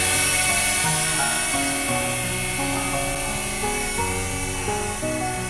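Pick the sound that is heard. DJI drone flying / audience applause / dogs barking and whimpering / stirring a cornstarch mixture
DJI drone flying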